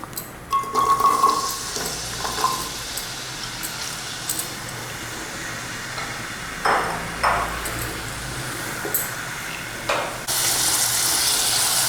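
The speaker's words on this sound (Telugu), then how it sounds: "ఆయిల్ హీట్ ఎక్కిన వెంటనే మనము ఉల్లిపాయలు వేసుకోవాలి" Onions fry in hot oil in a pressure cooker with a low steady sizzle, scattered metallic clinks and scrapes, and a louder, brighter hiss that swells and holds toward the end; no one talks.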